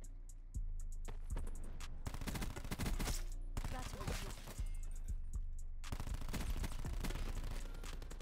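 Dense, rapid gunfire from a Black Ops 4 match rattles in near-continuous bursts. The volume stays fairly low, with a few brief gaps between bursts.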